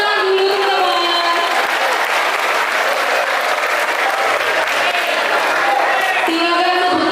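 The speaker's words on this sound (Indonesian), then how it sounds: "Tepuk tangan dulu teman-teman." Students at a school motivational seminar give a steady round of applause, loud and continuous, with a few voices faintly calling out over the clapping.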